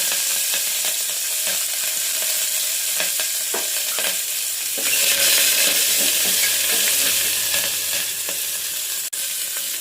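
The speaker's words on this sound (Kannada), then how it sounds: "ಈರುಳ್ಳಿ ಹಾಕ್ತಾಯಿದ್ದೀನಿ ಮತ್ತು ಕರಿಬೇವು ಹಾಕ್ತಾಯಿದ್ದೀನಿ." Sliced onion and curry leaves frying in hot oil in a pan give a loud, continuous sizzle and crackle that swells midway through. Occasional stirring scrapes sound above it, and there is no talking.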